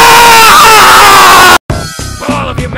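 Several voices shout loudly and continuously, break off abruptly for an instant, then carry on as quieter, jumbled yelling.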